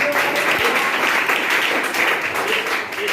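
A crowd applauds steadily for a few seconds, a dense, even wash of clapping with no break.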